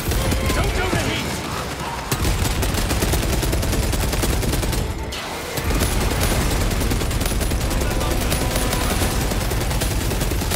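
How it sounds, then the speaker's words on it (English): Close, dense small arms gunfire in Warhammer 40,000 Space Marine 2 rattles in rapid continuous bursts, loud throughout, with a brief lull around the midpoint before the shooting resumes. "Small arms fire. It sounds close."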